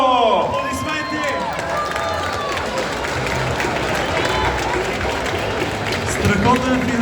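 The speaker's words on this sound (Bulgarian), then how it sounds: "Аплодисменти!" A crowd applauds and cheers for the champion of a Clash Royale tournament, steady loud clapping throughout with an announcer's voice over the noise at the start and end.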